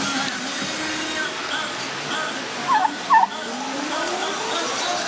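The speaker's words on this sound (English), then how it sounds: "See turkeys." Turkeys gobble twice near a fun park in Pokhara, Nepal, two short distinct bursts over a steady background of outdoor hum and distant traffic.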